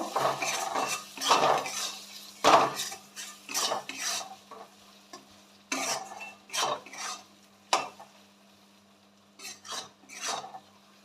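A spoon scraping and stirring ground coriander, chili and turmeric in a metal pan for chicken kasha, repeated rhythmic scrapes and clinks, close and fairly loud, with a steady low hum underneath.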